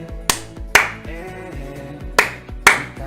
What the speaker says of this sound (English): Clapping, clapping, clapping.